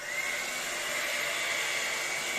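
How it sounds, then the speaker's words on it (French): Hair dryer blowing steadily over wet acrylic paint during a Dutch pour, a continuous whooshing motor hiss with a faint high whine, close and constant with no talking. "on peut s'aider pour l'étaler du sèche-cheveux, ce que je vais faire"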